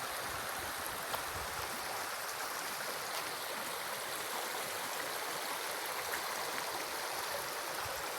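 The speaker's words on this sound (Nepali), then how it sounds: "यसको फेदबाटै नदी बगिरहेको छ" A river flowing past the base of Lingeshwar Dham shrine in Kanchanpur, Nepal, a steady, moderately distant rushing of water that continues unbroken without any voices.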